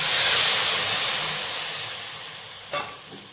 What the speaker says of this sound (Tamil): இப்போ புளியை கரைச்சி ஊற்றிடலாம்